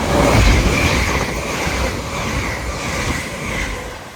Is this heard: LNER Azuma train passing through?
yes